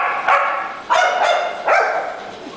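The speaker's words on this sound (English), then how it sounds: "What's all the barking, huh?" Dogs at a doggy daycare bark in three sharp, loud bursts close by, each bark trailing off into a brief whine, with short pauses between them.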